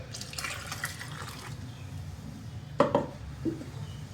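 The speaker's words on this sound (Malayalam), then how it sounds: "കുറച്ച് വെള്ളം കൂടി ചേർക്കാം" Water is added to a simmering kera fish curry: a soft watery background gives way to a brief, sharper splash of pouring and a few trailing drips.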